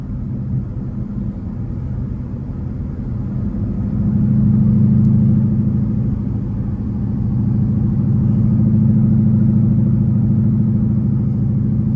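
Ford Mustang Bullitt cruising with the windows up, a steady low engine drone and road rumble from inside the cabin, swelling slightly partway through as it picks up pace, with no talk.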